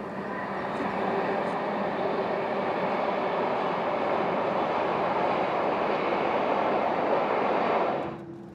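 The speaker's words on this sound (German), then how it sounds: "Von Filisur nach Bergün überwindet die Albula-Bahn in einer ersten Steilstufe 500 Höhenmeter." An Albula railway train on the steep Swiss mountain line crosses a bridge, a loud steady rumble and roar that holds for about eight seconds before dropping away.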